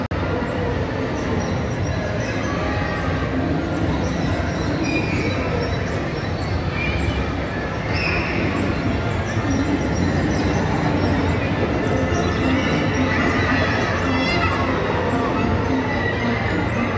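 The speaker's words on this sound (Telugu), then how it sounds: "ఈ ట్రైన్ మొత్తం పిల్లల్ని వేసుకొని మాల్ మొత్తం తిరుగుతుంది" A children's ride train circles through a shopping mall, its wheels giving a continuous near rolling rumble with soft squeals and clacks over a busy indoor hubbub.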